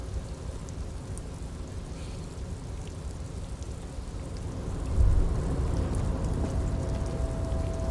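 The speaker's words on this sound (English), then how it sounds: "I hear rain." Steady rain falling in the Disco Elysium video game, a soft continuous patter with a low rumble of thunder swelling midway, all fairly quiet and with no talking.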